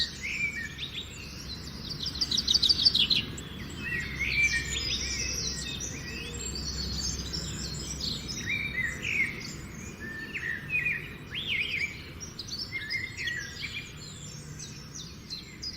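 Many birds sing and chirp together at a bird village, a dense outdoor chorus of overlapping trills and tweets that runs steadily throughout, with faint insect buzz beneath.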